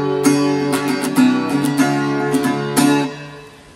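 A small travel guitar plays through its built-in amplifier with reverb switched on, giving a handful of loud strummed chords and picked notes that ring and fade with a lingering tail toward the end.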